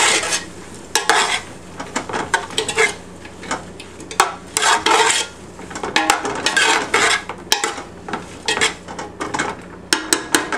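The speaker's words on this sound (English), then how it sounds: "And now we'll give that a good stir." Sliced leek and minced shallots being stirred in a pan for a green bean casserole, with repeated scraping and clinking of a utensil against the pan in uneven bursts, close and fairly loud, no talking.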